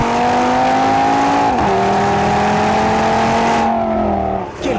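Audi TT RS five-cylinder engine with optional sport exhaust revving loud and close, a sustained rasping tone that dips and climbs before easing off, with crackles from the exhaust.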